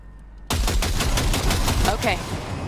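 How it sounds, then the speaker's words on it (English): Weapon fire in the Cyberpunk video game during a calibration test, a rapid burst of closely spaced loud gunshots cutting in suddenly after a quiet start and rattling on for about two seconds. "Fire a short burst into it."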